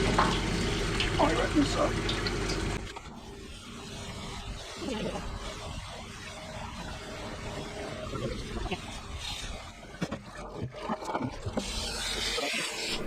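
Water from a hose rinses packed dirt out of the honeycomb radiator fins on a TYM tractor, a steady hiss and splash running through most of the clip, with people talking over it at times.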